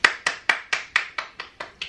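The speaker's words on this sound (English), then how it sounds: "we applaud you" Eight crisp hand claps ring out close and evenly spaced in a quick steady rhythm, each with a short decay and no talk over them.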